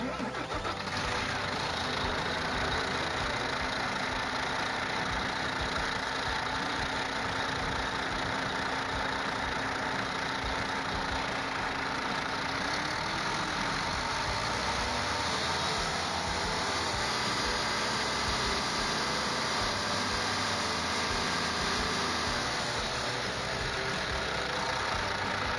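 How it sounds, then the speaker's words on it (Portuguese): A VW MAN TGX diesel truck engine idles steadily for a long stretch, a dense, loud rumble with a constant mechanical hum and no voices. "Vamos funcionar o motor na marcha lenta."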